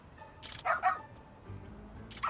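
A dog in the video game Lost Judgment gives a few short, fairly faint barks and yips in quick succession, with no talking.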